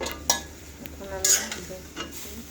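Fresh pond-side greens are stirred in a pan on the stove with a few scraping clinks of a utensil against metal over a faint background hiss, sparse and close.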